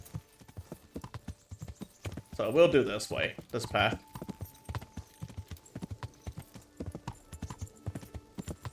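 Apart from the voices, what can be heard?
horse hooves trotting in video game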